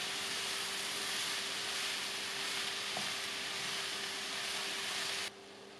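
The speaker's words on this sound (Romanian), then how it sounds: "Amestecăm și lăsăm până ce ciupercile își pierd din volum și se înmoaie." Mushrooms softening in a pan as they cook down, giving a steady, close sizzle and hiss with faint stirring, ending abruptly near the end.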